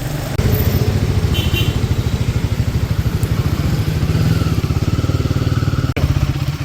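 A Royal Enfield Guerrilla 450 motorcycle engine runs loud and close while riding, with a fast, even thumping pulse over rushing wind noise and no talk.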